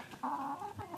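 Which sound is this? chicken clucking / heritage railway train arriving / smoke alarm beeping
chicken clucking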